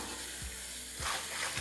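Water is poured into a jackfruit masala paste frying in a pan, a loud steady hiss and sizzle that swells partway through, with a few low thumps underneath and no talking.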